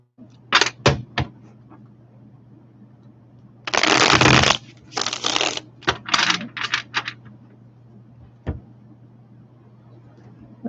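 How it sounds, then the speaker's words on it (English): A deck of tarot cards is shuffled by hand in several close, crisp riffling bursts separated by short pauses, with a faint hum underneath and no talking. "I actually want to do one more shuffle."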